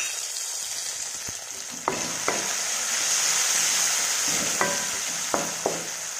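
Ginger and chopped tomatoes frying in a pan while a vegetable curry is cooked: a steady, fairly loud sizzle throughout, with a few sharp clicks of a spoon against the pan.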